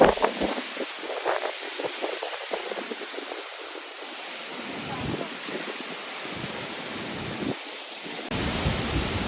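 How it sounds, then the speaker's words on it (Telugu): Strong wind from an unseasonal summer storm rushes and buffets outdoors around a tree in gusty, roaring waves. It is close and loud, with rustling and microphone buffeting throughout. "దీన్ని బట్టి మీకు అర్థమైపోతుంది గాలి ఎంత హెవీగా ఉందో."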